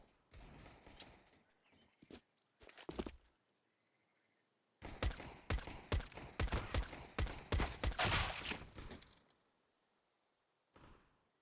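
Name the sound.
Glock pistol gunfire from the video game Counter-Strike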